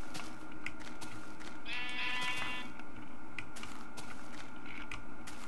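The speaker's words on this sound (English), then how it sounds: "Ooh, a sheep, kill it." A sheep in the video game Minecraft Beta gives a single wavering bleat in the middle, heard over a steady background hiss with some faint clicking.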